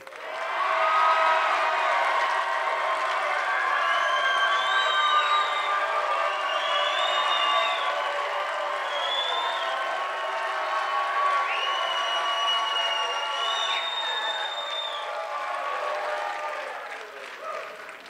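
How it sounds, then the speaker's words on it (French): Steady audience applause at a Quebec trad music contest, sustained close claps for about eighteen seconds with a few voices and whistles rising over it. "Et maintenant, vos applaudissements pour les potagers!"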